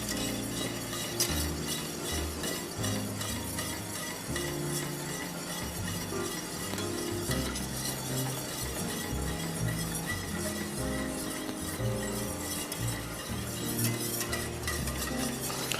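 Onions being mixed in a pan for sweet and sour pork, with repeated stirring and scraping, light clinks of a utensil, and a faint sizzle underneath, steady and close throughout.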